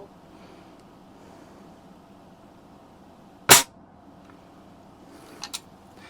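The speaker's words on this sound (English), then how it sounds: "let's shoot the witch on the right hand side in the middle" A Daisy 120 pellet rifle fires once at a Halloween witch target outdoors, a single sharp crack midway through, followed by two faint small impacts or ticks in otherwise quiet surroundings.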